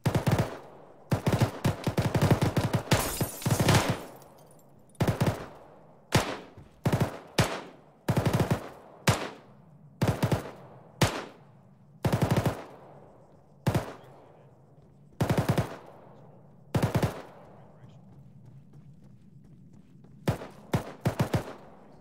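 Automatic gunfire rattles through a military simulation video game during a field training exercise, with loud close bursts and long sustained sprays. Pauses of varying length fall between them, and the bursts continue with no talk.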